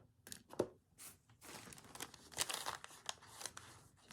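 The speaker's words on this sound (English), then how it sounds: "Let's put another piece of brown paper in there." A piece of brown paper is crumpled and tucked into place by hand, giving soft, close rustling and crinkling in irregular bursts, quiet and with no talking.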